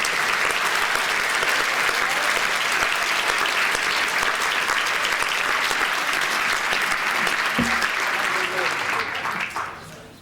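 A large indoor audience at the SFU Outstanding Alumni Awards Gala 2010 gives warm, sustained applause to welcome dignitaries, a dense steady clapping that tapers off at the end.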